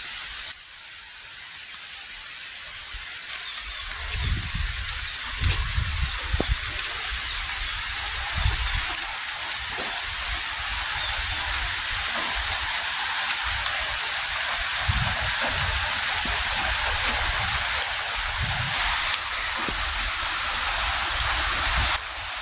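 Heavy rain pours steadily on a hut during a storm with strong wind, a dense continuous hiss that stays loud and even from start to finish, with occasional low gusts and thumps beneath it.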